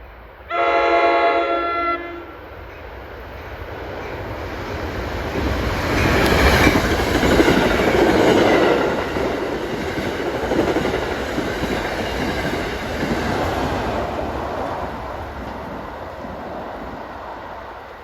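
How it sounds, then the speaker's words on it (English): An ALP-46A electric locomotive hauling a Dover-to-New York passenger train non-stop through Mountain Station on an autumn afternoon opens with a loud multi-tone horn blast, then swells into a heavy rumble and rail clatter that slowly fades. "Got one of the veteran ALP 46As. Here comes 6656 from Dover to New York. Non-stop through here, of course."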